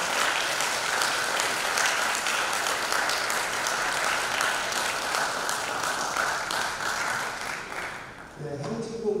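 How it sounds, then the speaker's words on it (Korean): A crowd at a high school wind band competition in Chuncheon claps steadily for the conductor, a dense sustained applause that fades near the end as a few low tones sound. "큰 박수 부탁드립니다."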